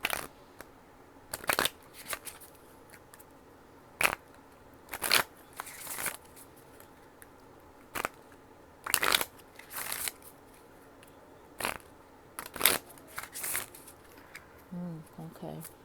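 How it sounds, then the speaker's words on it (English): Crisp bursts of oracle card shuffling, riffling and tapping in short irregular flurries, close up, with quiet pauses between them. "I'm gonna do these Manifest Soulmate Oracle cards and just do a quick shuffle."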